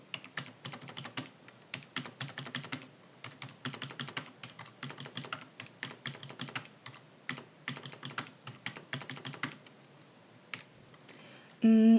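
Rapid bursts of keystrokes on a computer keyboard as numbers are entered into an Excel spreadsheet, clattering in quick clusters with short pauses between runs, close and fairly clear, ending in a brief louder bump.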